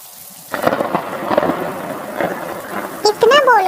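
Rain and rolling thunder in a Hindi animated Panchatantra forest story, a steady downpour with low rumbles that lasts under four seconds, ending with a voice over the storm.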